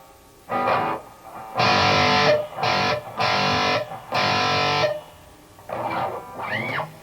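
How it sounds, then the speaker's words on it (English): Distorted electric guitar through a Rat distortion pedal plays a handful of gritty, sustained chords in separate bursts with short gaps, ending with a few bent notes. "So I've got a rat distortion pedal programmed into this thing."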